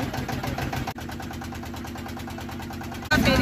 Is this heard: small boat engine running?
yes